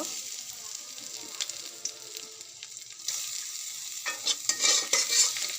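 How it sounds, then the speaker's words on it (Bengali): Chopped garlic hitting hot oil left over from frying eggs, a close, steady sizzle with stirring and scraping clatter, growing louder and busier toward the end, with no talking. "ডিম তুলে নেওয়ার পরে যে তেল আছে আমি তাতে এক এক করে রসুন কুচিটা আমি দিয়ে দেব"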